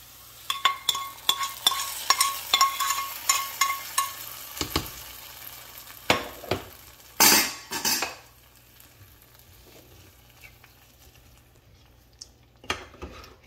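Spices for a Jaffna-style cassava curry temper in hot oil in a pan, a faint sizzle broken by sharp clinks and scrapes of a spoon stirring against the metal, with quiet stretches between.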